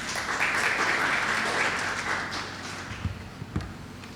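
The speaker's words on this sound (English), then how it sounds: "Please give her a round of applause as she comes" Audience applause at a distinguished lecture as a biology faculty member comes forward: dense, sustained clapping that softens after a few seconds, with a few louder thumps and footsteps near the end.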